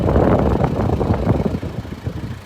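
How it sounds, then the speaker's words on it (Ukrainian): A 2003 Volkswagen Touran engine idles steadily and evenly, a low continuous rumble close by with no changes in pace and no talking. "Двигун у нас працює ідеально, рівно не торгіть."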